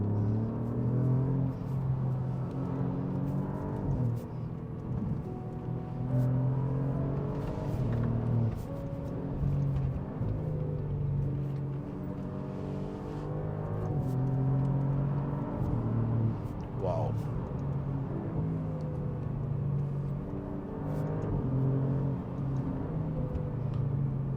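Alfa Romeo Giulia Quadrifoglio sedan engine pulling hard on a drive, a steady, loud cabin drone with rising revs and quick gear changes throughout.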